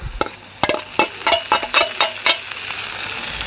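Onions fry in a pan for egg chapati noodles, crackling and sizzling as a spoon repeatedly scrapes and stirs in quick, uneven strokes, close and fairly loud with no talking.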